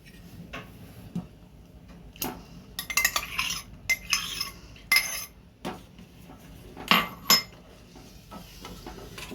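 Melted milk and chocolate compound stirred in a steel bowl, with bright metallic clinks and scrapes of the utensil against the bowl coming in irregular bursts over a quiet background.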